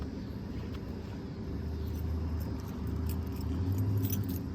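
Car keys jangle faintly beside a 1965 Ford Mustang Fastback, a soft metallic rattle that grows slightly busier toward the end over a low background rumble.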